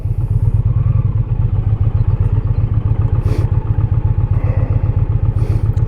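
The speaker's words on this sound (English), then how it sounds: "we're just kind of riding on one of the main drags in Savannah" Loud, close motorcycle engine rumbles in a steady, pulsing drone as the bike rides along a main street in Savannah, heard from a helmet-mounted camera, with a few faint higher clatters and wind rushes over the top.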